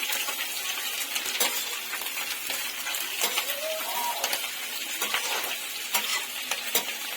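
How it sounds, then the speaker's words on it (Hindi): Green chillies frying in oil on low heat, a continuous hiss of sizzling with many small crackles and pops from the seeds, plus occasional light clinks of a spoon in the pan. "बहुत ही सावधानी से दोस्तों इसको तलना है, नहीं तो जिसके बीज है ना वो बहुत तड़कते हैं"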